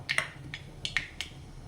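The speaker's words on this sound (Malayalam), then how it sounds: "കടുക് പൊട്ടി വരുന്നുണ്ട്" Mustard seeds splutter in hot oil as the tempering for a raw plantain stir-fry; about six sharp, quiet pops crackle irregularly over a faint background, with no talking.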